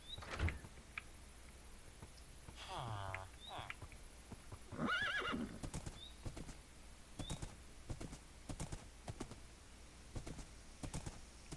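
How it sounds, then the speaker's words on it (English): In the video game Minecraft, horse hooves clip-clop in an irregular rhythm, with a whinny and snorts, soft and close. "I'm just a guy on a horse looking for a shrine"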